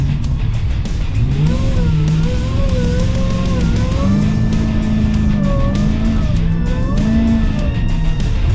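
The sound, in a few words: Demon-swapped Jeep engine driving in desert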